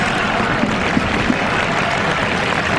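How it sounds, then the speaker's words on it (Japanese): A stadium crowd at a 2007 U-20 World Cup football match between Japan and Nigeria applauds a substituted player leaving the pitch, a steady dense wash of clapping and crowd noise that holds evenly throughout with no clear speech. "拍手に包まれて"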